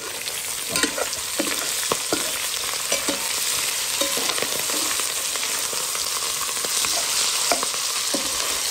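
Onions and tomato fry on a gas stove with a dense, constant sizzle, dotted with small clicks and scrapes of stirring throughout.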